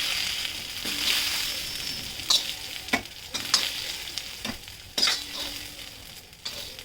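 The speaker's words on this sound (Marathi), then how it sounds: "सगळे मसाले एकत्र भाजून घेऊन मसाला चांगला भाजला" Mixed spices for a dhaba-style rajma masala roast in a pan with a soft continuous sizzle, broken by several sharp scrapes and clinks as a spoon stirs them.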